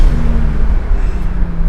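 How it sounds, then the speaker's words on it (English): A 500-horsepower GT-R-engine-swapped Nissan 240SX accelerates with a loud, deep, droning engine roar that holds strong throughout, close by and free of speech. "Any day that you can drive a 500 horsepower car is a really good day, but especially when it makes this noise."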